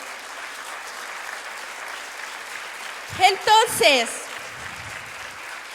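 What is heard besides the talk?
congregation applauding in church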